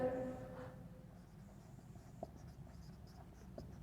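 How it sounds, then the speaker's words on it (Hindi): Writing on a board during a chemistry lesson: soft, steady scratchy strokes with a few faint taps, quiet and close, opening with a brief trailing voice. "ये वाला पॉइंट लिखेंगे"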